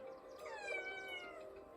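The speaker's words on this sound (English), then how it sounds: "Look, actually, here's my cat." A cat meows in a drawn-out, wavering cry that rises and falls, close and fairly clear over a faint steady background hum, with no talking.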